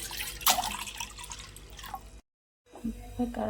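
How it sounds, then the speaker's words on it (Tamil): Water poured into a pan to make jaggery syrup, heard as a close splashing, trickling pour that breaks off briefly, then resumes more faintly. "ரெண்டு டம்ளர் தண்ணி எடுத்துக்கிறேன்"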